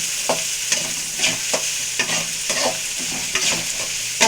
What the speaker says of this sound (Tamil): நம்ம கட் பண்ணி வச்சுருக்க பச்சை மிளகாவையும் வெங்காயத்தையும் சேம் டயத்தில் ஆட் பண்ணுறேன்.